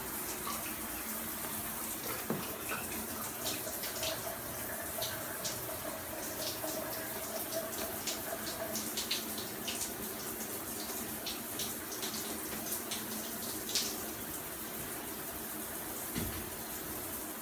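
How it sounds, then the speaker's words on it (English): A kitchen tap runs steadily throughout, a continuous rushing splash into a sink. The flow stays even, with faint clinks and small shifts now and then, and no one speaks. "I'm just making sure the water works"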